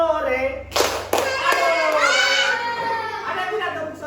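Group clapping game with several sharp hand claps keeping time to a chant, children and an adult chanting loudly over the claps, close indoors.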